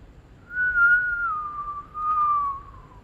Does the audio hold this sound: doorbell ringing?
no